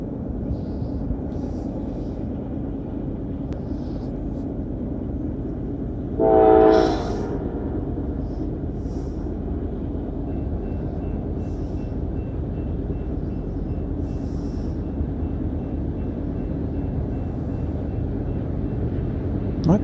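A northbound Norfolk Southern mixed manifest freight led by four locomotives rumbles steadily past on the second track, with a loud horn burst partway through, continuous heavy rolling noise throughout and no talking.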